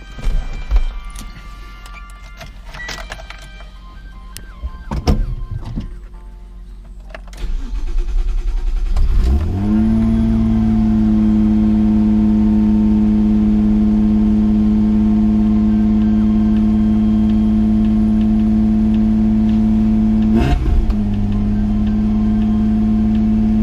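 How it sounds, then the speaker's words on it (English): Mazda MX3 with the K8 V6 engine after a mass airflow sensor replacement: a few seconds of cranking and clatter, then the engine catches and settles into a steady, loud, elevated cold idle with a brief blip partway through. "We'll see now if we can get a cold start out of it."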